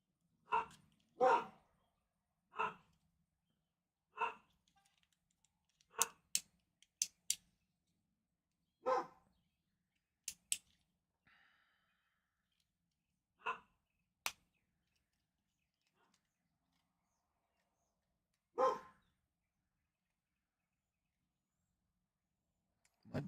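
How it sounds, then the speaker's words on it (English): Dogs in a house bark in sharp, isolated bursts spread over about twenty seconds, each woof short and fairly close with quiet gaps between. "they bark at absolutely everything"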